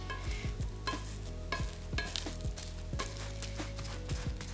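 Two wooden spatulas chop and break up a spring onion pancake frying in a pan, with rhythmic hollow knocks and scrapes over a continuous sizzle and a steady tonal background, close up.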